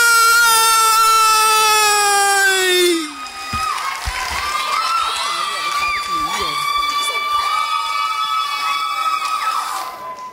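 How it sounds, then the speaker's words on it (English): Audience at a secondary schools poetry slam in Trinidad claps and cheers for the second-place winner, a lively crowd wash after a sustained tone fades, with shouts and whoops over the clapping. "can we have a round of applause for Dominic Friday?"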